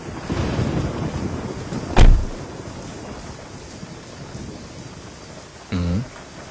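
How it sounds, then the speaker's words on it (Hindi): Steady rain falls outdoors with a continuous hiss, broken by a sudden sharp thunder crack near the start and a later low rumbling burst. No voices are heard. "लगता है ये बारिश नहीं रुकने वाली।"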